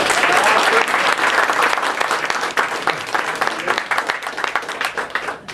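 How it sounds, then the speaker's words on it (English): An awards-night crowd at a fast draw gunfighting competition claps loudly and densely for several seconds, then the applause thins and tapers off. "Big round of applause for Bob."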